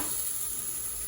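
Fish frying in a pan, a steady broadband sizzle held evenly throughout, close and moderately loud with no talking.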